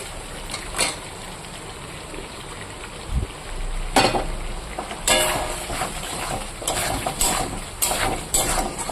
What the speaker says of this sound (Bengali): এবার এতে আমি ভেজে রাখা চিংড়ি মাছগুলো দিয়ে দেবো হ্যাঁ তেল শুদ্ধ দিয়ে দেবো